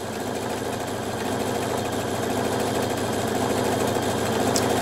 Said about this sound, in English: So I'm gonna start sewing. It'll automatically start with my beginning taper.